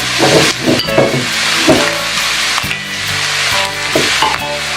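Ginger garlic paste sautéing in a hot pan, a loud, close, continuous sizzle with repeated scraping and knocking strokes of a spoon, no voices over it.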